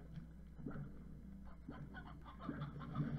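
A stony hen clucks in the Slime Rancher video game, giving several short, soft clucks over a steady low game hum and ambient background sounds.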